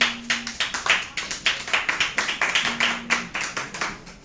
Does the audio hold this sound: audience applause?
yes